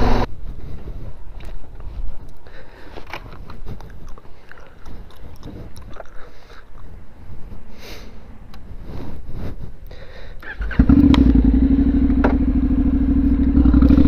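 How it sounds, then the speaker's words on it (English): A new Honda motorcycle: rustling, wind-buffeted handling noise gives way near the end to a loud, steady engine rumble that holds to the close. "I just bought a new motorcycle"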